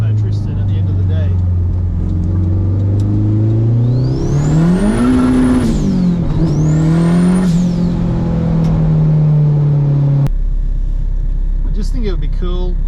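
A Mitsubishi Evolution IV with a 4G63 turbo engine and crankwalk revs up, its engine note rising and falling over two strong pulls with a high turbo whine climbing alongside, loud and close, while someone talks throughout.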